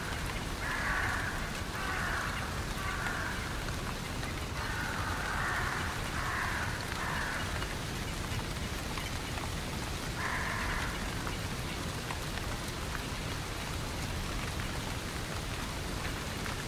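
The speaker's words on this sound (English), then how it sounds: "watch raindrops bounce off leaves and undergrowth." Steady rain patters on leaves and undergrowth in a coastal woodland, a continuous broadband hiss with no voices.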